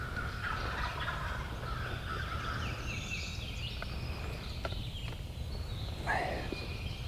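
Wild turkeys gobble in the Mississippi woods during a spring hunt, distant rattling calls rising over a steady hiss of outdoor background, with a sharper gobble standing out near the end.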